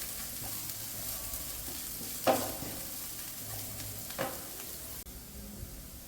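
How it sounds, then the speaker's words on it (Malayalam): Turmeric and coriander powder sautéing in a pan for a potato roast, giving a quiet, steady sizzle with a couple of soft stirring scrapes and clinks, no voices. "മഞ്ഞൾപ്പൊടിയും മല്ലിപ്പൊടിയും ചേർത്ത് ഒരു 30 സെക്കൻഡ് ഒന്ന് സോട്ട് ചെയ്യുക"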